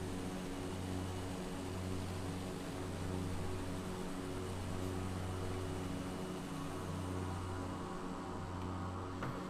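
Aircraft engine drone from Microsoft Flight Simulator, a steady, even hum with a constant low tonal layer under broadband noise, unbroken throughout, with no talking.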